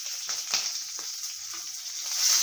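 Green and dried chilies sizzling as they fry in hot oil for poori masala, a steady close crackling hiss with small pops, rising slightly toward the end.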